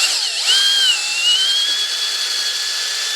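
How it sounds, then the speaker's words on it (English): A power drill spins a new 7/32 inch bit into a kickstand puck with a steady, high-pitched whine. The pitch wavers briefly as it starts, then holds even for about three seconds with no voices. "One more try with the new 7/32 inch drill bit."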